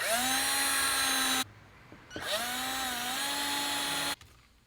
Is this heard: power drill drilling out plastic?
yes